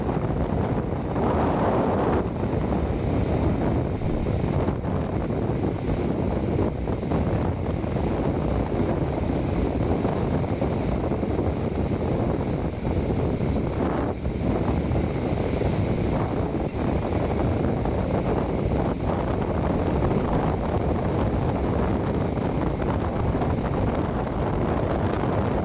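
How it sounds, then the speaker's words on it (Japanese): Ocean waves at Tsujido beach roll in as a steady, loud wash of surf with strong wind buffeting the microphone throughout, no voices present. "今日の午後の辻堂正面 波の様子"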